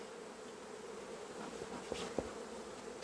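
Honey bees hum at a hive, a soft continuous drone with a couple of brief sharper buzzes as individual bees pass close by.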